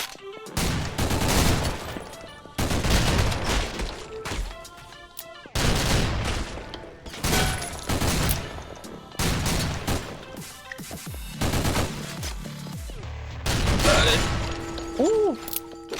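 Gunfire from an unidentified weapon in a horror video game set in a bloody manor: repeated heavy blasts in bursts across the clip, with mechanical reloading clicks and ratcheting between them.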